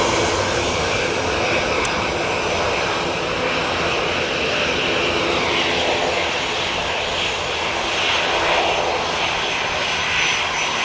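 A Lufthansa jet airliner roars past at Manchester Airport, a loud, broad, continuous engine rumble that swells slightly and holds steady, with no talking.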